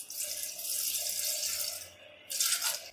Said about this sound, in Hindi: 1 गिलास पानी का ऐड करेंगे।